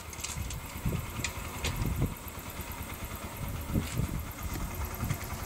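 A motorcycle engine runs nearby with an uneven, pulsing low rumble and a few sharper revs, heard close with faint outdoor background.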